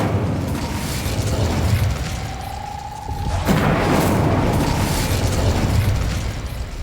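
An Incendio fire spell is cast in Hogwarts Legacy, a roaring whoosh of flame with a rising tone, then a second burst of crackling fire that stays loud to the end.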